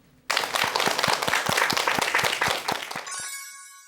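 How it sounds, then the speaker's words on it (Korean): A lecture audience at a mental health talk bursts into applause welcoming the speaker. The clapping is sudden, loud and evenly rhythmic, then fades into a bright chime near the end. "여러분 박수로 강연 청해 듣도록 하겠습니다"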